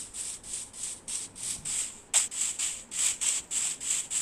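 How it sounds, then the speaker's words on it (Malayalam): Rhythmic, evenly spaced scraping thumps of a tree being chopped in Minecraft, a steady run of repeated strikes with one sharper hit midway, close and alone with no talk. "തൽക്കാലത്ത് ഇപ്പോൾ നമുക്ക് പെട്ടെന്ന് ഒരു മരം മുറിക്കാം."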